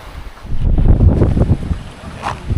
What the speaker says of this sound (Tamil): காற்று வேறு அடிச்சிட்ருக்கு சாரல் விழுது